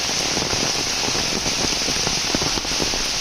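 Heavy rain pouring steadily over a paddy field in a Konkan village during rice transplanting, a dense continuous hiss with scattered drop patter, close and loud throughout.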